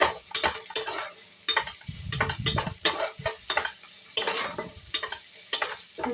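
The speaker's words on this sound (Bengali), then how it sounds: "চিংড়ি মাছগুলোকে আমি ভেজে নিচ্ছি" Shrimp frying with cumin seeds in a wok, with a steady oily sizzle broken by frequent sharp scrapes and knocks of a spatula tossing the pieces, close and fairly loud.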